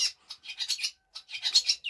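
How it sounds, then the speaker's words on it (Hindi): Small birds chirp and squabble in quick bursts of scratchy, high chatter, two clusters of rapid calls separated by a short pause, fairly close. "देखो कितना कितना भयंकर झगड़ा हो रहा है चिड़ियाओं का"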